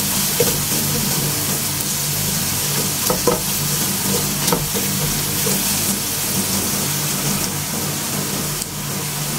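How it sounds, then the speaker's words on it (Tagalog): Garlic sizzling steadily in hot oil in a home kitchen while being cooked until lightly browned, with occasional stirring clinks over the continuous frying hiss. "Lagyan natin hanggang brown ng konti yung ating garlic."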